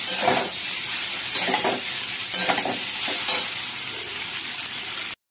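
Pasta is stir-fried in a pan with onion and chili flakes, with a constant sizzle under repeated scraping stirs from a utensil. The sound cuts off abruptly before the end.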